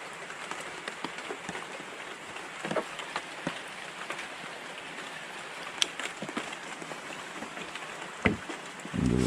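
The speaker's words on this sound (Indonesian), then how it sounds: "Hujan gerimis." Light drizzle falls steadily during shrimp fishing by water, a soft continuous patter with scattered brief drop taps and faint knocks throughout.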